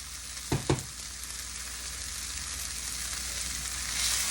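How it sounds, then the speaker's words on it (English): Tomato paste sizzles with garlic in a pot for a jambalaya, a soft, continuous frying hiss with two brief scraping stirs near the start and the sizzle swelling slightly toward the end. "Then I'm going to add 3 tablespoons of tomato paste."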